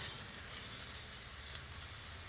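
Ground green chili, ginger and cumin-chili pastes hitting a hot pan, giving an even, airy sizzling hiss that holds steady throughout, close and unbroken by voices.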